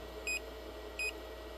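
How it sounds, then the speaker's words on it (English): A Bluetti power station signals a low battery voltage fault with two short, clear electronic beeps about three-quarters of a second apart, over a faint steady hum. "And here it start beeping."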